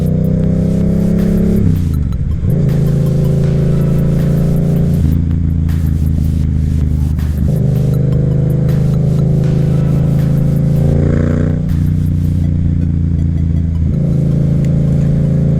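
A Yamaha FZ07 motorcycle on the highway, its engine droning loud and close with repeated rises and drops in pitch as the throttle rolls on and off, punctuated by crackling pops and burbles on deceleration.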